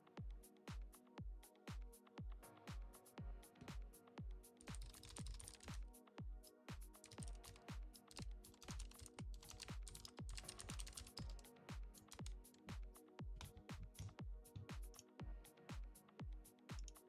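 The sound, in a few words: typing on a computer keyboard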